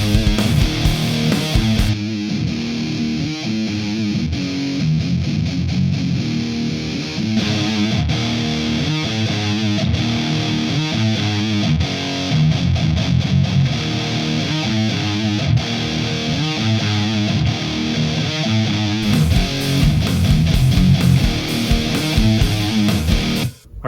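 Heavy distorted electric guitar tracks, split left and right, chugging palm-muted riffs with punchy rhythmic stops, loud and continuous throughout.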